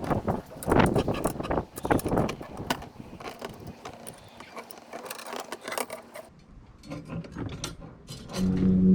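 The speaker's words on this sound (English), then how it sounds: "So now I'm going to be tightening up the union." Metal clicks and ratcheting scrapes come from a wrench tightening a union fitting on steel brake tubing on a 1998 Chevy Tracker, in short irregular bursts close by.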